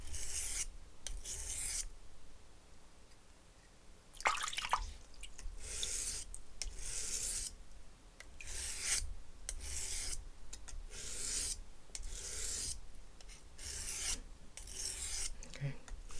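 A knife blade being sharpened while repairing a broken tip, with regular rasping strokes repeating in steady bursts at close range, separated by short pauses.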